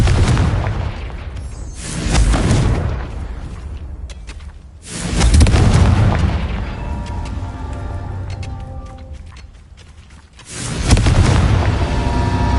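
The Confringo fire spell in Hogwarts Legacy detonates in three heavy, booming blasts spaced several seconds apart, each followed by a rumbling decay and crackling debris.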